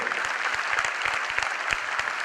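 An audience claps together in a warm, sustained burst of applause, the many hands blending into a dense patter with a few sharper individual claps standing out.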